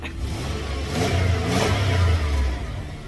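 A car engine revs as the gas pedal is pressed during an oil change, rising and falling in a couple of swells of mid-pitched roar, fairly close with no talking.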